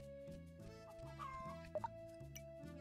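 Chickens cluck in the farming video game Gleaner Heights, soft repeated clucks and a couple of sharper squawks over looping game background music, quiet overall.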